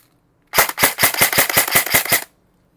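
E&C 867SE airsoft gun firing a rapid burst of about ten sharp, evenly spaced shots lasting under two seconds, loud and close, with no talking.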